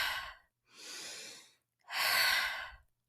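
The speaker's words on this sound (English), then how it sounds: "This is in through the nose, out through the mouth with a continuous flow, like the waves of the ocean." Slow, steady breathing in through the nose and out through the mouth, three soft airy breaths in a continuous wavelike flow, close and alone with no talk.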